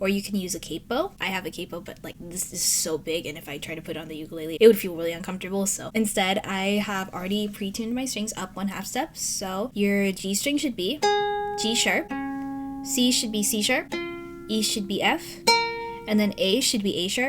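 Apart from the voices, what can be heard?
None of the usual background noises is heard.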